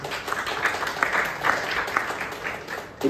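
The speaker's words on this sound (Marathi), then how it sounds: "स्टोरी सांगितल्याबद्दल एकदा जोरदार टाळ्या" An audience at a public speaking workshop in Lonavala claps loudly and steadily for a few seconds, a dense patter of many hands filling the room.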